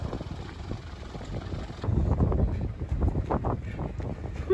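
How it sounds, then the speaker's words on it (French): A tractor approaches on a farm, its low engine rumble swelling partway through over steady wind noise on the microphone. "le mec il est en train d'arriver avec son tracteur"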